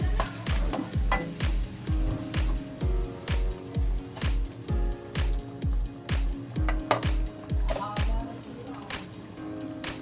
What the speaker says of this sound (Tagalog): Ilalagay na po natin yung kalahati ng ating pure gata. Yan. Halu-haluin po natin.